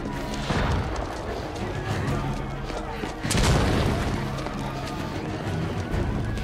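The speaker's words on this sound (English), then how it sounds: "Tesla Arc gun itu kan itu." A Tesla Arc gun fires in The Order: 1886 on a bridge, heavy booming blasts and electrical bursts over continuous battle noise, with voices talking over the action.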